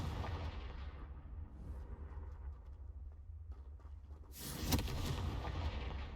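A Confringo blasting spell in Hogwarts Legacy goes off as a sudden broadband burst late in the clip, rising out of a steady low rumble of in-game ambience.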